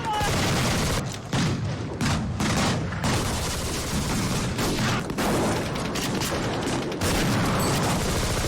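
Dense volleys of gunfire crackle and boom as guerrillas ambush constabulary auxiliary vehicles in a film scene, with repeated loud bursts broken by brief pauses.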